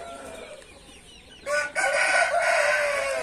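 Chickens cluck and a rooster crows close by after heavy rain; soft clucking at first, then a loud crow bursts in at about the midpoint and carries on strongly to the end.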